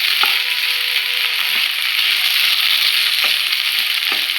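Okra (ladies finger) sizzles steadily in a hot pan, a bright continuous frying hiss close up with a few faint scraping stirs.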